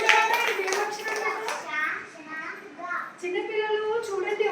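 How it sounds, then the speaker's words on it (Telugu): Schoolchildren in a first-grade classroom clap together in a burst of applause, close by, with a voice and classroom chatter mixed in. "క్లాప్స్ కట్టండి."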